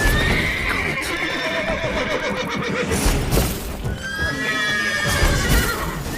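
Several horses in The Witcher 3: Wild Hunt whinny and neigh loudly over a busy background of hooves clip-clopping, with a long high whinny near the end.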